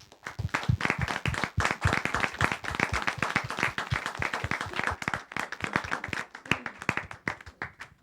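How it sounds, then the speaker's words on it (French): A church congregation claps together, producing dense, rhythmic hand claps that go on steadily at moderate loudness and then thin out slightly near the end. "Est-ce qu'on peut applaudir le nom du Seigneur?"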